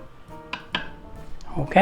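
A lid set down onto an Instant Pot in a home kitchen while making cabbage soup, giving two sharp metallic clinks followed by a softer rattle as it settles, close up with faint voice in the background.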